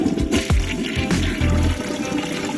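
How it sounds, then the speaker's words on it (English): A newly installed two-piece toilet flushes with loud, close rushing water, with gurgling pulses and splashes that settle into a steady flow. "Press the flush button."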